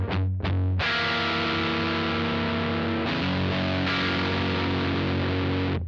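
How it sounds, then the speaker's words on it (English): An electric guitar plays through a Walrus Audio Iron Horse V2 LM308 distortion pedal set to high treble and heavy gain, giving loud sustained distorted chords after a couple of quick strums, with no talking. "turn up the treble control and turn up the distortion level even more for a more classic Rat sound."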